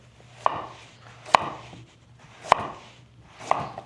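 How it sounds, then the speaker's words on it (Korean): A kitchen knife cuts carrot into long julienne strips for japchae, striking a cutting board four times in a slow, uneven rhythm, each chop a crisp, close knock with soft low background hum. "자, 이거를 우선 채를 썰을게요."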